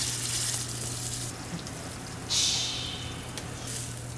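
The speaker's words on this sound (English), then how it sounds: "When we're searing meat, we want it to hit the pan, and you wanna hear a shh the second it hits the pan" Chateau steak sears in a hot pan with a broad, steady sizzle and a fresh burst of hissing partway through, heard alone without talk.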